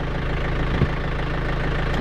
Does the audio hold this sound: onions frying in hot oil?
no